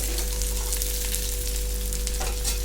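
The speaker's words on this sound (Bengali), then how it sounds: "বেশ তেলে বেশ সুন্দর করে ভেজে নিচ্ছি।" Jackfruit chunks frying in oil give off a steady, close crackling sizzle with a constant low hum beneath, short and uninterrupted, without any voices.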